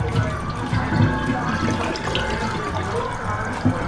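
Water drains from salted napa cabbage for homemade kimchi, a steady close wet pouring and splashing that runs the whole time with small drips and gurgles, no talk over it.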